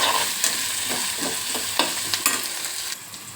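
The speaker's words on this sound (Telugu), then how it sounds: "ఇట్లా దోరగా వేపుకోవాలి. ఉల్లిగడ్డలు, జీలకర్ర, మెంతులు." Onions, cumin and fenugreek frying in oil for a fish curry paste make a continuous close sizzle, broken by irregular clicks and scrapes of stirring in the pan.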